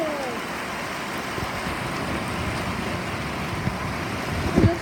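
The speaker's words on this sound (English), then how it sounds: "That is so much rain." Heavy rain falls outside during a thunderstorm, making a dense, steady wash of noise that stays close and even. A short knock and clatter sounds near the end.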